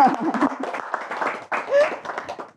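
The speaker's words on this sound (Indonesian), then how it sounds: "Tepuk tangan dulu dong" A studio audience on an Indonesian talk show about integrity building claps to welcome a guest, Dr. Yusef Fatria, a short burst of clapping from several people mixed with voices and laughter.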